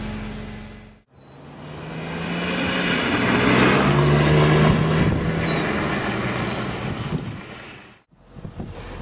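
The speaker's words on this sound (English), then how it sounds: "Get underway in the M3." A BMW M3 convertible pulling away, its engine rising from a low rumble to a steady, louder drone with wind noise, then cutting off abruptly near the end; no talk.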